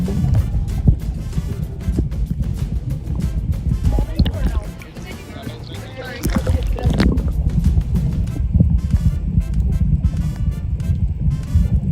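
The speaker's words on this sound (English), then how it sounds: "I had to paddle" Boat paddled across open water off Puerto Rico, with repeated splashing strokes and sloshing close by, people talking throughout.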